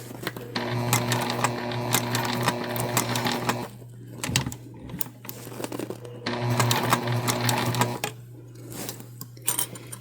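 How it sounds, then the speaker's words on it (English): A sewing machine stitches a Dollar Tree placemat into a pillow, running in two long steady bursts with a short pause between them, close and fairly loud, with only faint background noise during the gap. "We're gonna backstitch and all those things that you would do normally."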